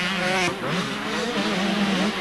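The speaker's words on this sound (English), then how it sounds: "The rest of the pack comes screaming through." 125cc motocross bikes racing past at a 1992 world championship round in Genk, Belgium: a loud, continuous buzz of two-stroke engines screaming by, with shifting pitch as the pack passes.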